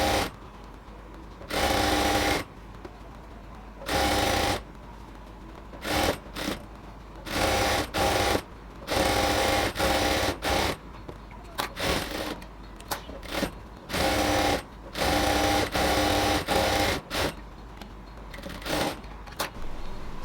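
A sewing machine stitches a salwar in repeated bursts, some long runs and many short quick ones, loud and close with brief pauses between, no talk.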